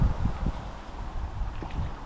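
Steady wind buffets the microphone, a low rushing roar with gusty swells throughout.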